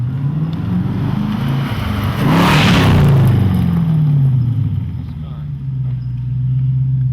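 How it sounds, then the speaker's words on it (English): A car drives past on a film set, rising from a steady engine drone to a loud close pass and then fading away, with a Doppler drop in pitch and people talking in the background. "Here comes the car."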